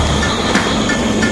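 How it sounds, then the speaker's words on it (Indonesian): A Percy toy train from Thomas and Friends runs along its track, giving off a loud, steady mechanical whirr with faint rattling clicks, close by and continuous. "Kita bermain kereta api Persi."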